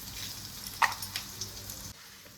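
Grated ginger sizzles gently in hot oil in a pan, a faint continuous frying hiss broken by a few small pops and crackles before it drops quieter, with no talking.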